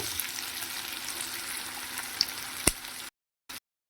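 Steady, soft sizzling of onion, garlic and chilies frying in a pan, with a couple of sharp clicks near the end before it cuts to near silence.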